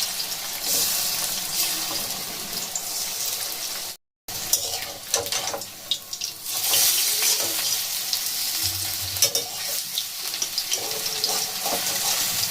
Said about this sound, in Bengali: এগুলো আপনারা ডুবো তেলেও ভাজতে পারেন বা আমার মতো এরকম অল্প মিডিয়াম তেলেও ভাজতে পারেন